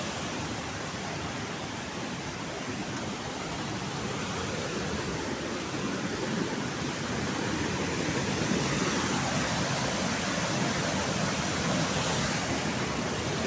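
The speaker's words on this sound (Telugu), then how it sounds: "మళ్ళీ చూడండి ఇంకో వాటర్ ఫాల్ కింద ఇంకో వాటర్ ఫాల్ ఉంది" Mitte waterfall in Telangana pours in a steady, dense roar of falling water, constant and fairly loud throughout with no voices, swelling slightly toward the end.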